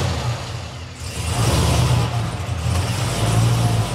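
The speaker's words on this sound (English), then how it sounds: "So I figured I'd do a cold start for you." Cold start of a car engine, either a Cadillac or a Camaro, catching and settling into a rough, loud idle with low rumbling and a rising rev, close up and with no talking.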